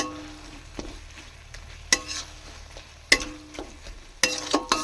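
Masala frying in oil for a chicken curry with potatoes, a steady low sizzle broken by sharp, loud clacks and scrapes of a spoon stirring against the pan.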